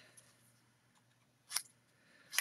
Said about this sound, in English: You just need your scissors and you just go snip, snip,